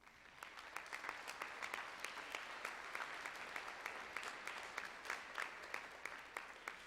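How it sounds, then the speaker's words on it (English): Audience applause at a junior high school band spring concert, a room of steady hand claps with distinct individual claps standing out, moderately loud and continuous throughout without talk. "Could you give our boosters a round of applause?"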